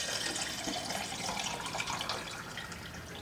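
Water pouring steadily into a gallon jug, a continuous splashing, gurgling stream close by that runs unbroken for about three seconds with no talk.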